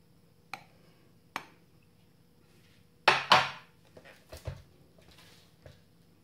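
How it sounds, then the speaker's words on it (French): Icing sugar sifted for a mascarpone cake: sparse light taps and clinks of a sieve against a bowl, with a brief cluster of louder rattling knocks in a quiet kitchen. "J'introduis maintenant le sucre glace que je vais tamiser."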